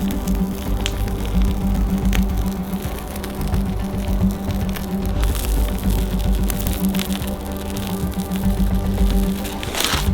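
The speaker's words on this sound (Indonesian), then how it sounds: "Potong memanjang dan peras krim kocoknya" Whipped cream squeezed from a piping bag onto a sliced giant castella sponge cake at a Korean street food stall, a steady soft hissing squish that runs on without a break for about ten seconds.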